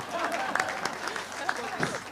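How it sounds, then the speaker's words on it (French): Audience applause at a French equestrian congress session on horse welfare, a modest spread of hand clapping from a small crowd, moderately loud, with voices talking over it throughout. "Vous pouvez applaudir Marie"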